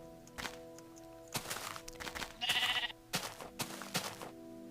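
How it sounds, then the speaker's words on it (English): Minecraft sheep bleating in short bursts several times over a steady game backdrop, with soft thuds between calls as the animal is chased. "So I'm going to try to chase this sheep down."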